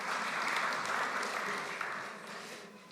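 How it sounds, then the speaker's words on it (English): Congregation applauding during a Sunday church service: a dense, steady patter of clapping lasting about three seconds and tapering slightly toward the end. "Let's give Tom and all the helpers a round of applause"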